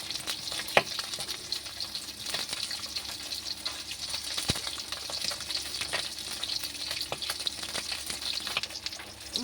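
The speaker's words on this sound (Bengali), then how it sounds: "মাছগুলো লাল লাল করে ভাজা হয়ে গেছে" Fish sizzles and crackles in hot oil in a pan, with a steady close-up frying hiss and occasional sharper pops and stirring clatters.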